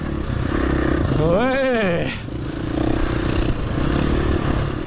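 A KTM 790 motorcycle on a motocross circuit revs up and passes close by, its engine note rising and falling sharply over a busy background of other bikes, with a brief spoken word.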